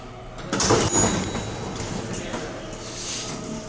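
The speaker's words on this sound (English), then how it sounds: "Well, the door was noisy" An elevator door at the Menger Hotel in San Antonio slides with a loud, rumbling scrape that rises after a brief pause and then settles into a steady hum, with a faint bright ring near the start.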